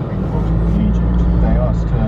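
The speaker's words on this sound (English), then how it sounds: "Bit of rain and the traffic's absolutely dire." Rainy Friday road traffic heard from inside a car, a continuous low rumble of engines and tyres on wet road, loud and steady throughout.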